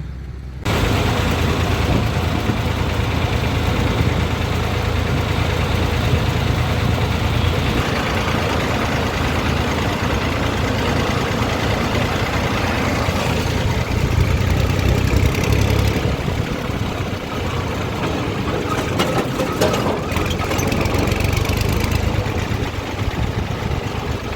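A tractor loaded with maize idles steadily and loudly at the Jamjodhpur market yard, a continuous low rumble with a mechanical chug and no voices.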